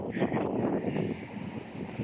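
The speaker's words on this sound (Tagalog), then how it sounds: "Ganda ng hangin." Strong morning wind on a white-sand shore buffets the microphone in irregular low gusts, rumbling and rustling fairly close for about two seconds.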